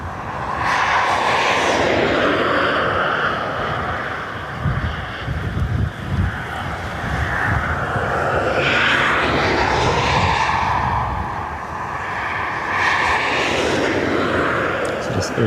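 An ATR turboprop from Newcastle at Dublin Airport, its engine drone heard amid steady wind buffeting on the microphone, loud and continuous with a rising and falling whoosh throughout.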